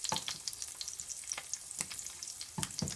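Sliced potatoes frying in a pan for a rare ribeye steak and asparagus meal, a steady crackling sizzle with scattered sharper pops and spatters throughout.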